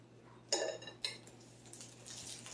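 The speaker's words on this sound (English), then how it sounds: "I'm just trying to cut through my cheese that I cooked in the oven." Metal cutlery scraping and clinking against a dish while cutting through oven-baked, golden-brown cheese on French onion stuffed shells, two distinct clinks close by, then faint scraping over a steady low hum.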